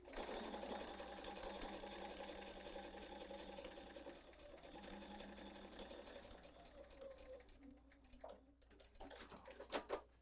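A hand-cranked sewing machine stitches fabric with a quiet, steady, rapid mechanical whir and tick. The stitching runs for about seven seconds, then gives way to a few scattered clicks and handling sounds.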